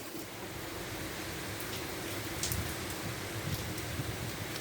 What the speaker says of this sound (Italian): volevo filmare questa tempesta